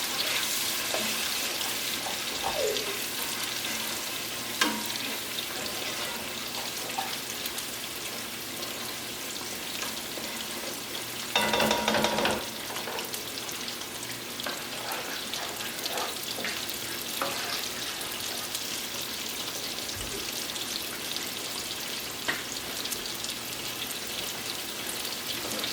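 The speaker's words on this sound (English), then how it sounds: "Stir that up." Food fries in a pan for a Puerto Rican dish, giving a continuous dense sizzle and crackle, close and steady, with a brief louder burst of stirring partway through.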